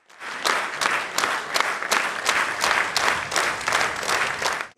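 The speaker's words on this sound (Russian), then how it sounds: "Экспрессивное выступление экс-главы сопровождали долгие аплодисменты." Long applause in Dagestan's People's Assembly, a full hall clapping in a strong, steady rhythm with rising, almost synchronized beats, loud and close, without pause.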